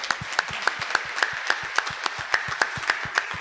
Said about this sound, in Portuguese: Jesus merece mais uma salva de palmas, não?